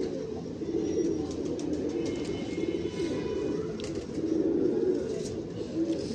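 Golden breeder pigeon cooing steadily and close, a continuous low throaty murmur with faint chirps above it.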